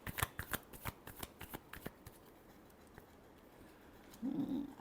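Tarot cards being shuffled, a quick series of crisp riffling flicks for about two seconds, then quiet room tone and a faint soft thump at the end; nobody speaks.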